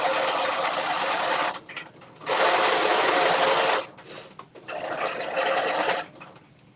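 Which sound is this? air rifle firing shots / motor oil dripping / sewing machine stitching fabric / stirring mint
sewing machine stitching fabric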